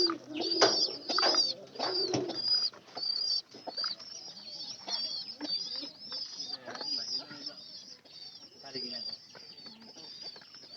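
Pigeons coo in a close, repeated series of low throaty calls, a loft of birds kept and fed for fattening squabs, with faint chirps and shuffling between the calls.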